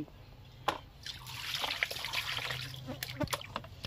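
Phalui fish being rinsed by hand in water, with soft trickling, dribbling and sloshing, a few sharper splashes and clinks, close and moderately quiet, no voices.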